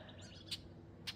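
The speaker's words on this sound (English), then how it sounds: "I got a bird up there." Two brief high chirps from a small bird outdoors at sunrise in a front yard, spaced about half a second apart over a steady low background hum.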